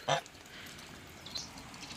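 A short burst of domestic goose honking near the start, then a fainter call later, over quiet outdoor background noise.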